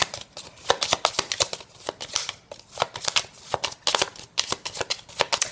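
Tarot cards are shuffled by hand in quick repeated riffling bursts, a crisp, close papery flutter with a steady rhythm and no speech over it.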